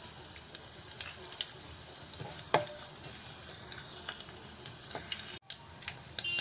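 Mustard seeds and cumin sizzle faintly in hot oil with a soft, steady crackle, broken by light scattered ticks and the occasional scrape of stirring.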